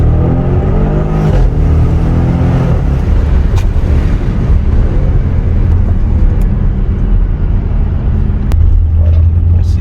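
Audi RS6 with 605 hp accelerating hard, a loud, continuous engine roar with rising harmonic sweeps and steady power throughout, close and dominant.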